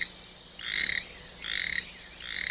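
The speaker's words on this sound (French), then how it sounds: "Là, une douzaine de crapauds croassent." About a dozen toads croak in the reeds, their pulsed, raspy trills arriving in three closely spaced bursts, moderately near and clear against a quiet background.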